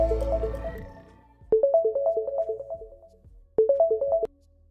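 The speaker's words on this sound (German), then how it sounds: "Das Telefon klingelt bereits wieder." A phone rings with a repeating electronic melody, two loud bursts separated by a short gap, following a fading earlier tone and with no talking.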